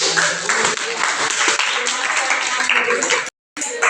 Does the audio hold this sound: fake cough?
no